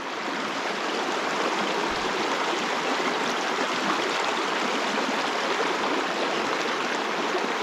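A small trout stream flows steadily with a constant broadband rush of current, close and fairly loud, unbroken for the whole stretch with no voices.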